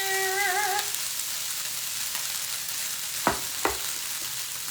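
Cooked rice, about two cups, hits a hot pan for veggie fried rice with tofu, giving a steady hiss of frying with a couple of sharp clicks of utensil against pan; a brief tonal chime sounds at the start.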